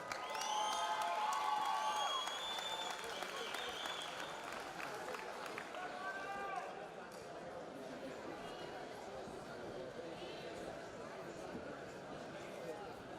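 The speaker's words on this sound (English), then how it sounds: "Everybody, big round of applause for Jordan Chandler." A fight crowd applauds and cheers for the winner, Jordan Chandler, loud at first with whistles and shouts, then settling into sustained clapping and chatter, fading slightly over thirteen seconds.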